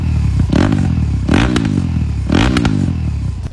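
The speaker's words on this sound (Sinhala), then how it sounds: "දැන් ඔයා ඔහොම මේ double exhaust system එකේ exhaust sound එක අහලා බලන්නකෝ" A Suzuki DR-Z400SM with a Yoshimura RS4 dual exhaust system is revved up close in three sharp throttle blips. Each blip rises to a raw, crackling bark and drops back to a lumpy, rattly idle in between.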